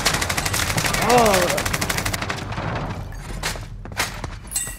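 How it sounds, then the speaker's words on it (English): Rapid automatic gunfire from a video game, loud and close as shots are fired out of a window, a continuous rattling burst that thins into scattered single shots with a brief rising tone in the middle. "I was shooting out the window, man."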